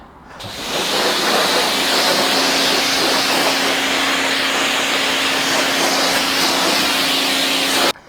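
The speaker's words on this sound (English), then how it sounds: "I've sprayed it down with the pressure washer" A pressure washer rinses down a motorcycle and its chain, a loud steady hiss of spray starting abruptly and running unbroken for several seconds close by, then cutting off sharply.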